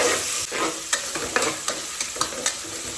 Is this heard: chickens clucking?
no